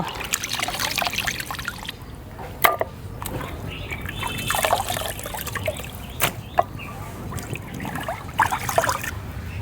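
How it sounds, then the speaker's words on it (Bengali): Beef pieces are washed in water, making irregular splashing, trickling and dribbling sounds with occasional sharper knocks, fairly close, while clucking chickens can be heard faintly in the background. "মাংসগুলো 3-4 বার ভালো করে ধুয়ে নিছি"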